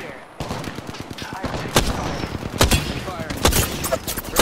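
Rapid gunfire in Apex Legends, sharp repeated shots in quick bursts with a few heavier cracks, loud and close amid game noise, with voices talking at times.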